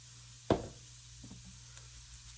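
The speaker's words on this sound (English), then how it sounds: "I'm sorry I'm banging on here, but this is my onion powder" A clumped onion powder container is knocked once, sharply and close by, then a couple of faint taps follow over a quiet background.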